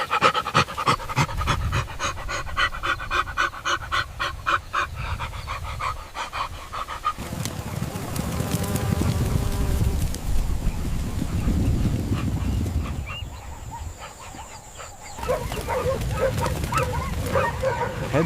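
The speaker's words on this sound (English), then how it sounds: "the dogs even back off for a moment to regroup before they start eating" Wild dogs feeding on meat pant rapidly and loudly at close range, with whimpers, yips and wet chewing sounds in between, continuous throughout.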